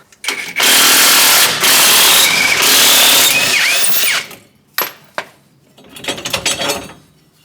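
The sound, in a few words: power tool removing U-bolt nuts during bump stop install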